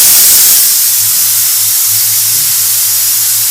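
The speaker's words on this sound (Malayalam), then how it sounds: "കുക്കറിൻ്റെ സൗണ്ടാണത്." A pressure cooker cooking dal vents steam in a loud, continuous high hiss, with a faint low hum beneath it. There is no talking.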